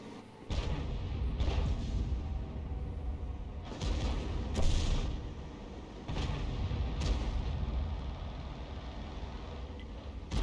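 Self-propelled M53/M55 artillery in a tank video game fires several heavy booming shots between buildings, each a loud, sharp blast over a constant rumbling engine and battle ambience, with no talking.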